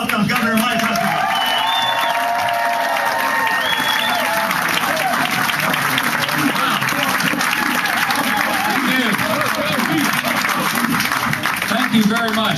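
Large indoor campaign crowd applauding and cheering to welcome Governor Mike Huckabee, steady dense clapping with whoops and scattered voices throughout, loud and sustained.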